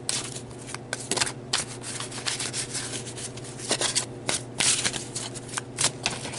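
Tarot cards being shuffled by hand before a card is drawn, a close, continuous papery rustling with repeated soft riffles and slaps.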